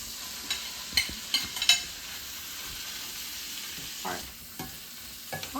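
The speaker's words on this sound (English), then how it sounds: "I put my onions in when my bacon got about half done." Onions and half-cooked bacon frying together in a pan, a steady soft sizzle broken by a few sharp clicks and scrapes from stirring, close and moderately quiet, with no voices.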